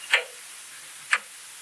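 A clock ticks twice, about a second apart, each tick a crisp, close, isolated click over a quiet background hiss.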